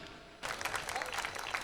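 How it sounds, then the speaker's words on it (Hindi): A live audience bursts into loud applause for a poet at a Hindi comedy poetry stage event, the clapping starting abruptly after a quiet moment and continuing as a dense, steady roar. "जोरदार तालियां बजा दिए राणा राजस्थानी के लिए"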